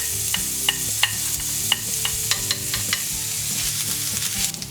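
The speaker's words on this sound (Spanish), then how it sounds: "En una sartén con un poco de aceite ponemos el jengibre y el ajo." Ginger and garlic sizzle in a little oil in a frying pan, a close, bright crackle broken by repeated sharp taps and scrapes of a utensil against the pan.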